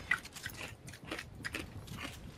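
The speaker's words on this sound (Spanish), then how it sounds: "te escucho masticar y tengo más hambre" Someone chews food with soft, irregular crunching and biting bites repeating close to the microphone at low volume.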